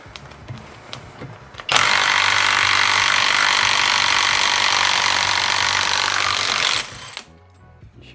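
Power tool, likely an impact wrench, loosening a bolt on the differential of a BMW E92 during a bearing swap: one loud continuous whirring burst of about five seconds, close by, with quieter workshop noise before and after.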